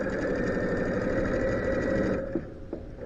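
A sewing machine runs in a steady, continuous mechanical whir while stitching a seam, loud and close, then slows and stops near the end with a couple of small clicks.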